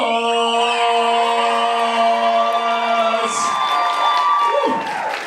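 Crowd noise at the New Zealand Pole Industry Awards 2018 swells with cheering and whoops under a sustained tonal music bed, loud and continuous for about five seconds.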